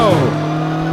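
A DeLorean in the Car Mechanic Simulator 2015 driving game launches hard off the drag strip line, its engine note sweeping upward as tires squeal briefly, then settling into a steady loud drone for about a second.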